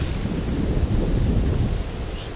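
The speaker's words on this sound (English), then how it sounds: "We're standing on the beach at the minute it's so nice here, the water's so warm" Ocean waves and wind on a warm beach in Singapore, a close, heavy roar of surf mixed with gusty wind buffeting the microphone, brief and continuous.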